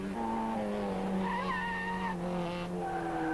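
A race car brakes hard and skids during a 1994 hill climb at Vodno, with tires squealing in rising and falling tones over the engine's high-revving drone for about three seconds.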